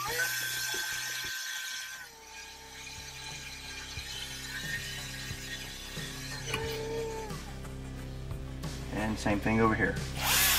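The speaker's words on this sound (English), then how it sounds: "drill our holes for our side mounts" A power drill with a 3/16 bit bores mount holes inside a Lexus GX460, giving bursts of whirring and ratcheting mechanical noise, close and fairly loud, with someone talking intermittently.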